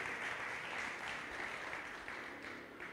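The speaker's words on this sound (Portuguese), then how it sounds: "Eu queria que você ficasse de pé e desse um forte aplauso ao Senhor" A church congregation standing and clapping loudly in praise during an evening service, a dense, steady roar of applause filling the hall throughout with no speech.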